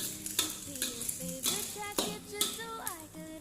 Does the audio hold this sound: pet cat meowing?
no